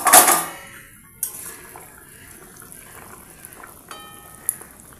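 A metal lid lifted off a kadai of potato curry simmering for a Bengali fish dish, with one loud clatter at the start, then quiet kitchen noise and a few soft metallic clinks.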